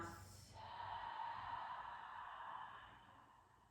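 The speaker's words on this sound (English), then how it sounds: "Take an inhale through the nose, exhale through the mouth." Slow breath during a seated chair-yoga exercise, drawn in through the nose and let out through the mouth. It is a soft, airy rush that swells and fades over a few seconds, faint and close, with no talking.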